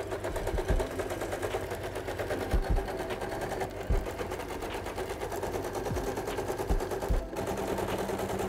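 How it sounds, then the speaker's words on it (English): A sewing machine runs steadily while stitching skinny jeans together, a close, continuous mechanical whir with periodic sharper knocks throughout and no talk. "Now we can start sewing all of this together"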